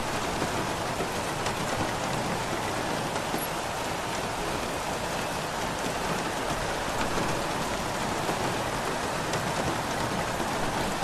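Heavy rain hisses steadily during a race in the video game F1 2016, a dense, even wash of rainfall with no breaks across the whole stretch.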